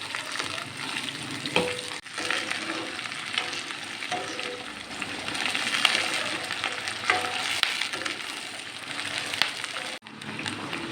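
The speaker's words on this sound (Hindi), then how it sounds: "प्याज हमारा फ्राई हो गया है।" Onions fry in hot ghee while a karela dish is being cooked, giving a steady, dense, close sizzle with faint crackles and occasional stirring scrapes throughout, with no talking.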